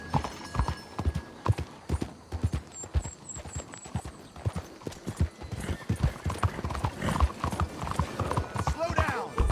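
Horse galloping in Red Dead Redemption 2, with rapid clip-clop hoofbeats in a steady driving rhythm, close and fairly loud, while voices shout over the hooves and a whinny cuts in briefly.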